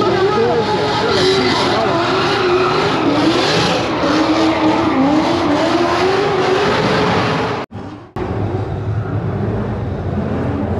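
At the SEMA show, a loud engine revs hard and holds high, bouncing against its rev limiter with a wavering scream, then cuts off abruptly before picking up again.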